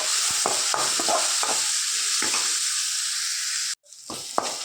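Tomatoes and turmeric frying in oil hiss with a loud close sizzle and a few stirring scrapes, then cut off abruptly near the end before faint sizzling returns.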